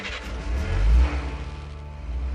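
A car climbing a mountain road on the Vojsko plateau near Idrija, its engine swelling to a low rumble about a second in, then settling into a steadier drone.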